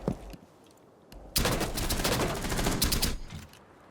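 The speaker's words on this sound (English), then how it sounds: "There was 7 gunshots there, but he fired 9 bullets." Rapid gunfire from the Rainbow Six Siege video game: a few isolated shots, then a dense burst of fast automatic fire that lasts almost two seconds, loud and close.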